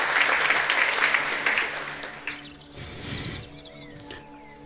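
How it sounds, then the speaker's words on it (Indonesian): A church congregation claps during a worship service, loud dense applause for the first couple of seconds, then thinning out and fading to scattered claps and quiet room noise. "Kita beri tepuk tangan untuk kebenaran ini."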